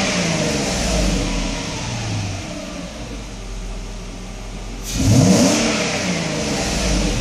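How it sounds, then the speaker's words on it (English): A Mercedes engine idles steadily in the car, then rises in a clear rev as gas is given, climbing smoothly in pitch before easing back to a low idle. The sound is close and continuous, with no talk. "so here I'm giving some gas"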